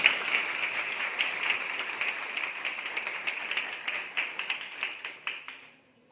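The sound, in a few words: students applauding to thank the speaker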